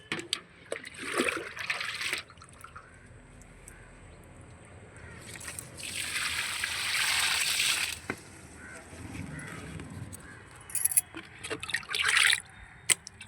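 Old rice porridge water is poured from a 5-kilo tin onto tomato plants in a garden, giving a soft, steady splashing and gurgling that swells in the middle and then trails off into faint trickles and drips.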